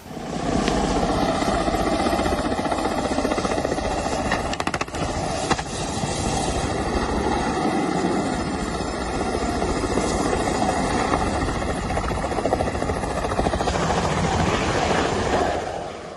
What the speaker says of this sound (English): The tail of a Ka-2-26 helicopter snapped off while landing in Russia